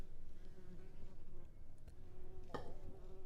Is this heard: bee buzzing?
yes